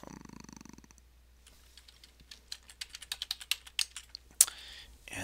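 Keys clatter on a computer keyboard as a password is entered, a quick run of close, crisp clicks with a sharper stroke near the end, in a quiet room.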